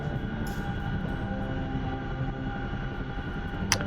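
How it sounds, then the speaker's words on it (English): A CH-47F Chinook helicopter flying in a video game, heard as a steady, loud rotor and engine drone that continues without a break, with a brief sharp click near the end. "CH-47. I think it's the F. Yeah, it's the F. CH-47F. That's what we're flying right now currently."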